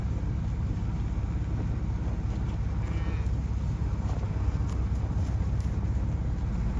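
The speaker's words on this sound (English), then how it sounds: "You letting that calf suck? How come it's bellering?" A calf bellows among cattle in a barnyard, a faint lowing call mid-way over steady outdoor background noise and distant livestock.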